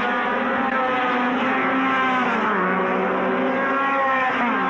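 Race car engine from the 1970 season, with Jochen Rindt driving the Lotus 72, a continuous loud, steady drone with shifting pitch throughout, no clear pass-by peak.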